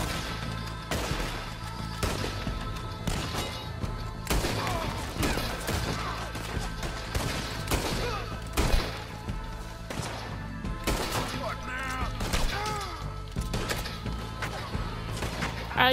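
Repeated gunshots and heavy impacts crack out in a Red Dead Redemption 2 gunfight, sharp bursts spaced irregularly over a busy rumbling background.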